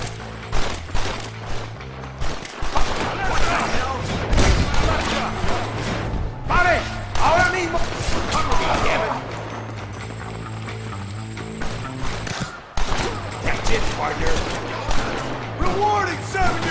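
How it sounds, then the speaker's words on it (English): Gunfire fills a Red Dead Redemption 2 shootout: rapid overlapping shots, thuds and crashes in a dense, busy game mix, with characters talking over the action. "Follow me, we'll shoot our way in there."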